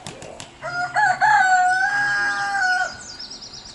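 A rooster on a farm crows loudly and close, one long drawn-out call, with faint chicken clucks around it.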